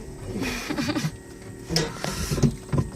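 Mechanical clunks and whirring from a manual stick-shift car as it is put in gear, a few separate knocks and rattles close by, no voices.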